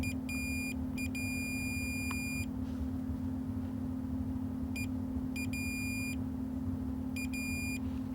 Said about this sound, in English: I've got this set so it beeps if the relay makes connection.